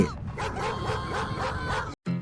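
A dog barks in a quick series of loud, close woofs, followed by a brief pause and one more short bark.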